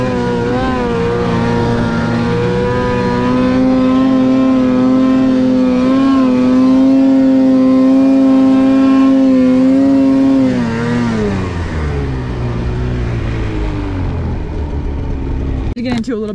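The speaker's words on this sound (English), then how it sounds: "I also have the Bikeman Performance Full Velocity Muffler, which you can tell in this clip, it makes my sled sound so nice." Snowmobile engine fitted with a Bikeman Performance Full Velocity Muffler and Y-pipe, droning loud and close in a steady tone that rises slightly, holds, then winds down near the end.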